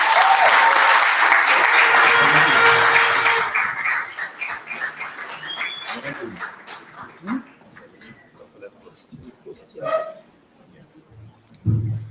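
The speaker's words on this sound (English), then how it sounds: "Let's give them a round of applause." A crowd at a Trinidad political gathering for local government election results bursts into loud applause for about three seconds, then the clapping fades into scattered voices, faint birdsong and occasional dog barks.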